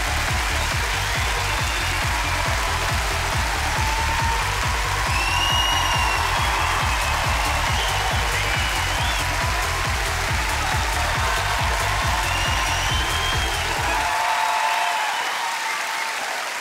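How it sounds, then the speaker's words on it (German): Warm applause from a German comedy show audience greets comedian Chris Tall, a dense, steady roar of clapping filling the hall for about fourteen seconds before cutting off abruptly. "Mit einem warmen Applaus begrüßen wir ihn"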